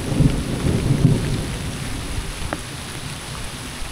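Thunder rumbles low and heavy over steady rain falling on a farm during the rainy season, with a few sharper drips sounding close by as the rumble fades.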